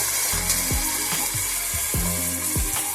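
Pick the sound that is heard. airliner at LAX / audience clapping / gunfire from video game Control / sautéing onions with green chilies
sautéing onions with green chilies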